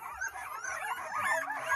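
Bully-type puppies whimpering and whining close by, with continuous high, wavering cries and small yips layered over one another, fairly soft and unbroken throughout.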